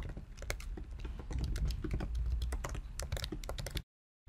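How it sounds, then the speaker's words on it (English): Rapid, irregular clatter of keys on a computer keyboard as a username and password are entered at a login screen, close and steady for nearly four seconds before stopping abruptly. "Now we will just type in that username and password which we created in the previous step."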